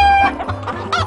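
Cartoon chickens cluck in a quick burst of several short, squawky notes, close and loud, with nobody talking.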